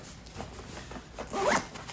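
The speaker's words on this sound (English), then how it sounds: "using the compression zipper" A compression zipper on a travel packing cube being pulled in a few short rasps, ending in one longer, louder zip. It is close up and heard alone.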